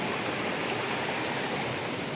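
Steady river water rushing over rocks in a Negeri Sembilan stream, a continuous broadband wash at even loudness with no talk over it.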